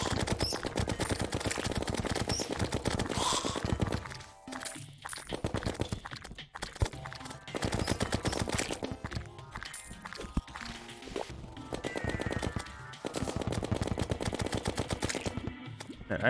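Terraria in-game gunfire crackles in dense, rapid bursts broken by short pauses, loud and continuous across the stretch with no talking.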